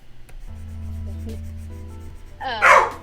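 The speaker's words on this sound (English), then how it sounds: "There's the dog." A dog gives a short, loud bark near the end, after a stretch of steady low hum with faint background sounds and no clear talk.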